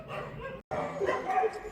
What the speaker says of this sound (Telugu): ఆల్మోస్ట్ 100+ డాగ్స్ ఉన్నాయి